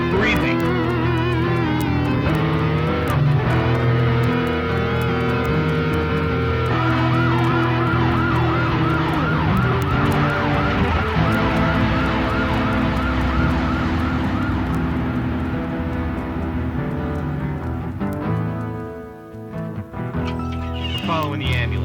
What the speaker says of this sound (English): We're following the ambulance.